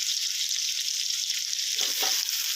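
Straw mushrooms with carrot stir-fry in oyster sauce in a hot pan, giving a dense, loud, continuous sizzle, with a brief scrape of stirring near the end.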